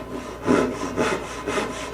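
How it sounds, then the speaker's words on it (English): A hand saw's crosscut teeth work through a thick wood blank for a Martin 00 style acoustic guitar, making close, rhythmic rasping strokes, about four even push-pull cycles in two seconds. "I'm just going to get after this with the crosscut side of this saw"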